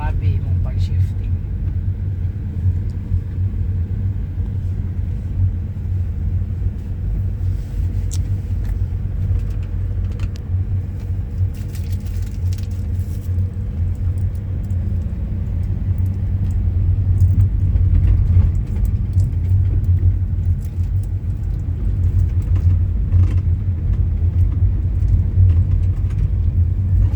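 Car engine running while driving, with gear shifts during a beginner driving lesson: a steady low rumble that swells slightly midway, with people talking over it throughout.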